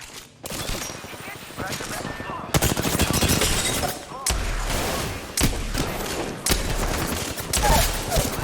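Sustained automatic gunfire in a video game firefight, with rapid machine-gun bursts and heavy thumping impacts rolling on continuously at close range, while a voice talks briefly underneath.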